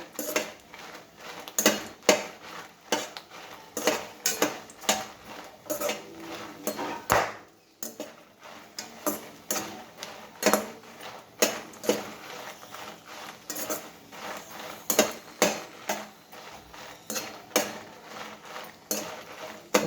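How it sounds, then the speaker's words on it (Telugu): Mint leaves stirred and fried in a pan, with repeated sharp clinks and scrapes of a metal spoon against the pan in an irregular rhythm over a faint sizzle, close and fairly loud. "కొంచెం పుదీనాకు కాసేపు వేయించుకుందాం అంతే"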